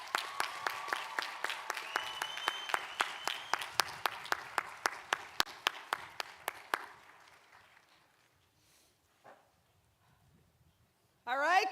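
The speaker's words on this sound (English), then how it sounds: "can we get another round of applause for all the graduates" Audience applause at a Quinnipiac University College of Arts and Sciences graduation ceremony, a few seconds of dense clapping that thins out and fades to near silence, with a brief voice at the end.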